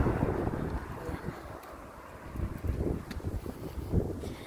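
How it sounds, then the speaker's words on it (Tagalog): Wind buffets the microphone in uneven gusts outdoors in cold Australian winter, a rumbling, blustery roar that rises and falls. "Mahangin, malamig."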